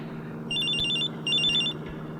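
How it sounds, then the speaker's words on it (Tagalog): A cellphone ringtone sounds in two short bursts of bright electronic trills separated by a brief gap, heard indoors over a steady low hum. "Ang cellphone ko."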